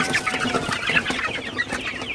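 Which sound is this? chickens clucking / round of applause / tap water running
chickens clucking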